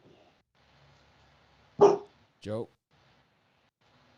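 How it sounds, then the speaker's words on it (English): A dog at home gives two short, sharp barks in quick succession, fairly near, with a few quiet words of speech just before. "Dogs are barking."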